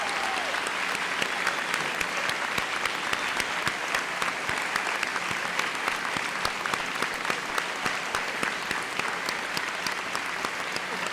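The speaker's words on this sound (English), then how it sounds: "Please join me in a round of applause." A large graduation ceremony crowd applauds steadily and evenly for the full stretch, a continuous wash of clapping heard from a distance without a break.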